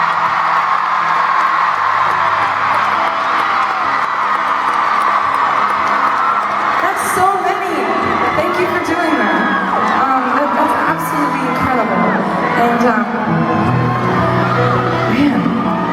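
A large arena crowd at a concert speech cheers, whoops and yells loudly and continuously throughout, a dense roar of many voices filling the space.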